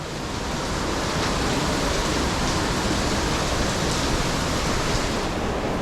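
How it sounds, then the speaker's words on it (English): Water pours steadily down a small cascade beneath a cliff overhang in a Blue Mountains canyon after rain, a continuous broadband rush heard close and constant, with no voices. "Water's flowing nicely."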